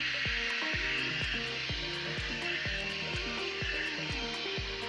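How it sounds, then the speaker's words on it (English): A blow dryer runs on its coolest setting at high speed, a constant loud airy rush that holds steady throughout, with faint low thumps recurring beneath it and no talking. "I use the blow dryer on the coolest setting and high speed."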